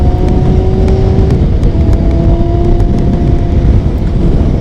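A 2000 Kawasaki ZX6 sport motorcycle accelerating on the road, a loud, close engine drone with rising tones under heavy wind rush, heard from the rider's position.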